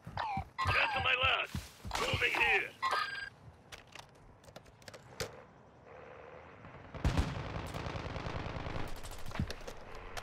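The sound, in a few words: gunfire in a video game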